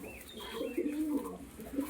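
A Lotan pigeon in a loft cooing softly in a low, rolling murmur, close by, with faint chirps from other birds behind it.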